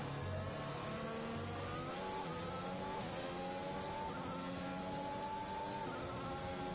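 A Formula 1 car engine in F1 2021 on the Azerbaijan street circuit: a steady, moderately faint high-revving whine with rising and falling gear-pitch sweeps, continuous throughout.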